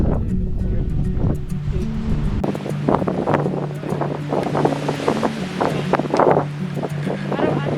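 Steady wind roars across the microphone on Mount Pulag, with gusty buffeting and a low rumble throughout.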